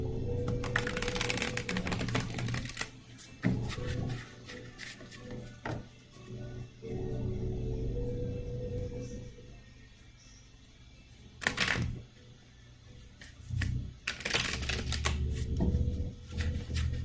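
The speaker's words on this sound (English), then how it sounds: "So let me shuffle for that." Tarot cards being shuffled by hand, with bursts of riffling and flicking alternating with quieter pauses, close and fairly loud over a low background hum.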